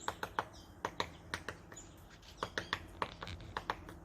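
A woodpecker's faint, quick knocking in short rapid bursts, sharp taps repeating with brief pauses between volleys, heard from some distance.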